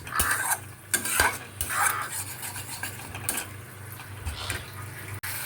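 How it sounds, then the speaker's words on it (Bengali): Mixed white and black mustard paste stirred and fried in oil for a hot and sour tilapia curry, busy scraping and rubbing strokes over a steady sizzle, close and fairly loud. "এটা দিয়েও খুব ভালো করে নাড়িয়ে চাড়িয়ে নিতে হবে"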